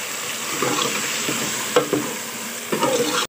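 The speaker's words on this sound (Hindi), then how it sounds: "अब चमचा हिला लेती हूँ, इसको अच्छी तरह से मिक्स कर लेते हैं।" A spoon stirs onions browned to light brown with tomatoes in a frying pan, a few scraping knocks breaking up a loud, steady sizzle, close by and without speech.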